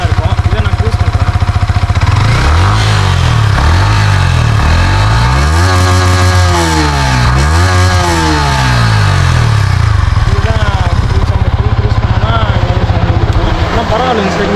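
Loud, close Yamaha MT-15 motorcycle exhaust, revved repeatedly from a steady idle into rising and falling swells of pitch before dropping back to idle.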